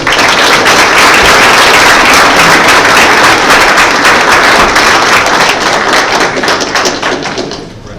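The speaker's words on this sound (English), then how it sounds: "So let's give them a round of applause." Applause from a school board meeting audience honoring a high school dance team, dense steady clapping filling the room for several seconds before gradually thinning toward the end.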